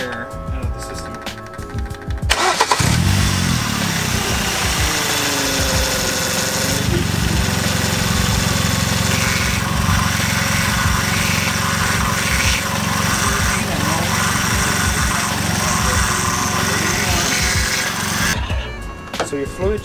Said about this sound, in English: So now we're just gonna turn on the engine for a little bit so we get some fluid going through the